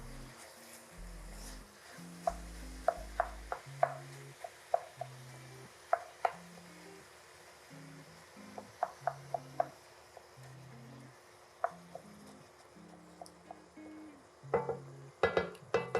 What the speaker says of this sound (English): give everybody some time at the bottom, really making sure that we break up that chorizo